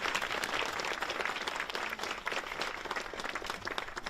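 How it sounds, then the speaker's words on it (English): Applause fills a school ribbon-cutting ceremony as officials are welcomed, a dense, steady crowd clapping that holds at full strength throughout. "Please join me in welcoming them with a round of applause"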